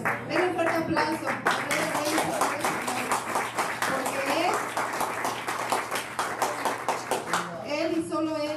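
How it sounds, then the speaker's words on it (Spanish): Church congregation clapping together during a worship service, a loud sustained run of rhythmic claps mixed with voices and shouts throughout, with talk near the end. "Den un fuerte aplauso."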